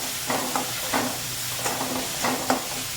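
Onion, tomato, garlic and coriander fry in a pan with a low, steady sizzle, broken by several soft rhythmic stirring scrapes heard close by.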